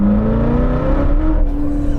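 A 2019 Chevrolet Corvette ZR1 engine with 755 horsepower blipping on a downshift, a loud close rumbling drone whose pitch shifts steadily upward as revs rise.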